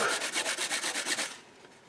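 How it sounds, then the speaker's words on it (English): Cloth wiping excess glue off a freshly fitted guitar inlay makes a quick run of about ten rhythmic, close rubbing strokes, then falls nearly silent. "And then we'll just wipe off the excess glue."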